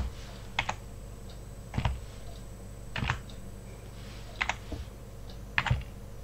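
Short bursts of keyboard typing, a few quick keystrokes every second or so, close and fairly quiet, with no talking.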